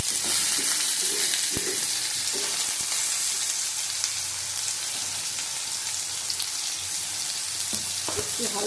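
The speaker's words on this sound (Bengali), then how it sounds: "আগে বাড়িয়ে ভেজে নেবো ভালো করে।" Pumpkin, potato and ridge gourd fry in a pan with a steady, bright sizzle, broken by a few soft knocks as the pieces are stirred.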